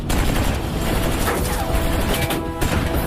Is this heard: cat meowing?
no